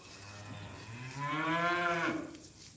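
A cow lets out a long, rising moo while cattle are being penned in for the night on a farm, a single call that swells loud in the middle and fades, with no talking.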